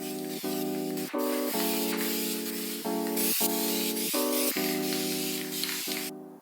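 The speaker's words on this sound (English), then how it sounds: "I'm going to start with a light first coat with this filler primer. Now I'll do a second heavier coat." Filler primer is sprayed from a can onto rusty car rims being repainted for a 1995 Toyota Celica. The spray hisses loudly and close in steady bursts, and a musical backing plays underneath.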